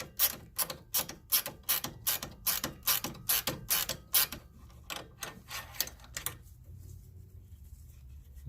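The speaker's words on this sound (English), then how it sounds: "I gotta put my ratcheting wrench back on" A ratcheting wrench backs off a strut nut on a 2006 Ford Escape during front sway bar link replacement, clicking in quick, loud bursts of rapid pawl ticks for about six seconds before going quiet.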